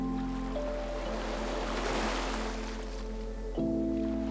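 Steady ocean surf washes continuously at moderate loudness under a low sustained drone and tonal hum, with no voices.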